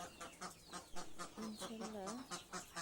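Domestic chickens cluck among ducks kept in a rural household flock, quiet, irregular short calls repeating close by in a fairly soft setting.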